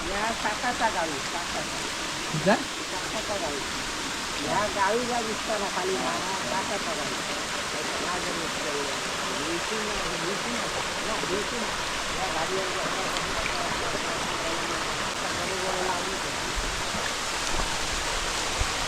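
Water pours down a hillside at Ozar waterfall near Ovaliye village, a continuous broadband rush that stays steady and fairly loud throughout, with occasional faint splashes.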